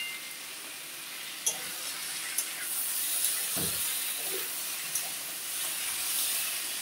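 Mixed vegetables and bori lentil dumplings are being sautéed in a pan, giving a steady broad hiss and sizzle with a few soft clinks from stirring. The sound is close and continuous, with no voices.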